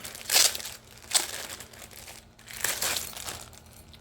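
A plastic bag from an October 2024 Ofra mystery box crinkles and rustles as it is handled, with several louder crunchy bursts between quieter stretches of rustling, close up and with no talk.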